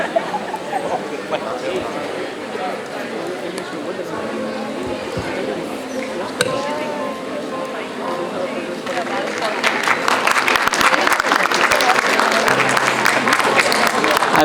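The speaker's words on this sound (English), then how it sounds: "Let's give them a huge round of applause." At an International Women's Day function honouring dignitaries, a hall murmurs with voices and chatter for several seconds before audience applause swells up, dense and close, clapping continuously through the final seconds.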